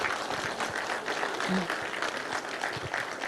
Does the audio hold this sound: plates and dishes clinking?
no